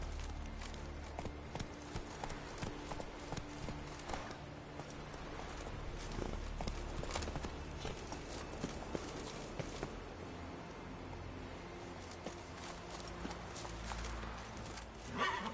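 A horse in The Witcher 3: Wild Hunt clip-clops at a steady walking pace over the ground, with even, moderately loud hoofbeats and quiet in-game ambience underneath.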